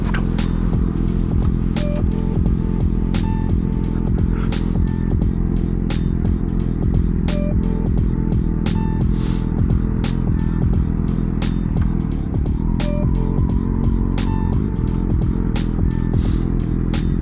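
A motorcycle with an aftermarket Scorpion exhaust, baffles removed, rumbles loud and throaty while riding on a cold day, with gear changes and engine pulses throughout and no talking.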